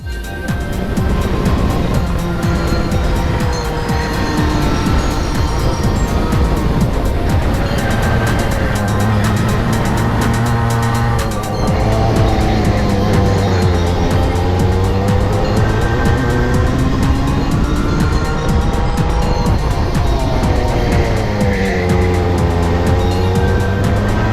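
DMAX racing karts lapping Daytona Sandown Park in good weather, a high, buzzing engine whine from close up that rises and falls as the kart accelerates and brakes through corners, with other karts heard nearby, continuous and loud.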